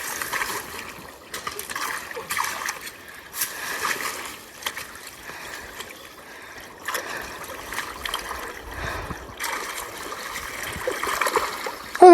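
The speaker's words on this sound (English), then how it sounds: "I'm gonna try to open this up some and let it drain, if it will." Water trickles and splashes steadily through a newly opened gap in a small woodland creek dam, a continuous close burbling flow with no voices.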